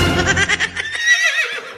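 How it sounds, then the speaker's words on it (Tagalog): A horse whinnies once, close and loud, with a shrill, wavering neigh that rises and then trails off into silence. "Kining kabayo?"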